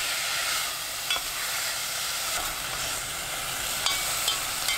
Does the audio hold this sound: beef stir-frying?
yes